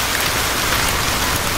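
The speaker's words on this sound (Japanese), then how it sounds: "雨よ降れ" A rain sound effect plays as a dense, even hiss of falling rain, steady and fairly loud for its whole short length, with no voices.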